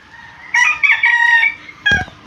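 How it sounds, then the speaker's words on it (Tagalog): Fighting cocks (gamecocks) crowing nearby, one clear loud crow followed by a second shorter call after a brief pause, with no talk over them. "Yung mga panabong na manok."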